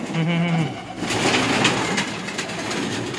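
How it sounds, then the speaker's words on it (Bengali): A pigeon coos briefly at the start, a short low call, then a louder, broader stretch of indistinct noise and movement follows close by. "এই যে একটা কবুতর"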